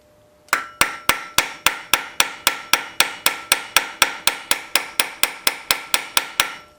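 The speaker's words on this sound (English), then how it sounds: "I'm only using a little hammer here, and it was working pretty good" A small hammer taps metal on a hit-and-miss engine under restoration in a steady, even rhythm, about twenty sharp ringing strikes close by, with no voices.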